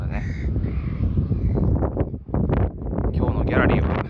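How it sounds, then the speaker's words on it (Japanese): Crows caw several times on an overcast morning, their harsh calls carrying over gusty wind noise and a low voice. "ギャラリーはカラスですね"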